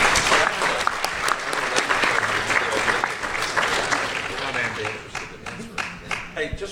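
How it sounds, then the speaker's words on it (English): A convention audience at a gaming panel bursts into sustained applause that stays loud and dense, slowly tapering near the end, with a few voices mixed in. "can I get a round of applause for these great panelists?"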